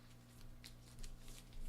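A base deck of cards for the Slay the Spire board game being shuffled by hand, a soft papery riffle with a few crisp bursts, close and quiet with no talking.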